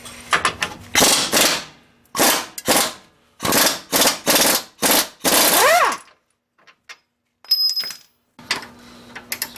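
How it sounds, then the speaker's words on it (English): An impact wrench with a 19mm socket works on a Honda Civic front lower control arm bolt, firing in several loud, close hammering bursts, then a pause with faint clinks before another burst. "Using a 19mm socket, proceed to remove the front lower control arm securing bolt."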